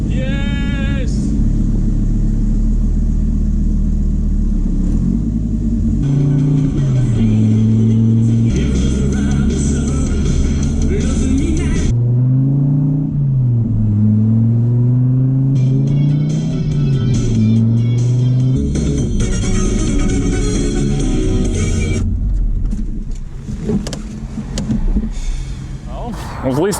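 A Dodge Viper's engine revs up and down in rising and falling surges as the car drives on a sunny day, close and loud, with a voice talking over parts of it.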